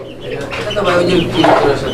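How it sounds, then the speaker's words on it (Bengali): Pigeons in a fancy-breed pigeon market coo in soft, low throaty bursts, close and fairly loud, with faint background chatter and chirps mixed in. "এখানে কালো রঙের যে কবুতরটা এটা কি কবুতর"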